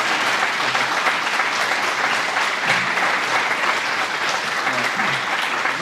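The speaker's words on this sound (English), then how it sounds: "join me in a round of applause of thanking our panelists" A large lecture audience claps steadily and loudly for a panel, a sustained round of applause with no pauses.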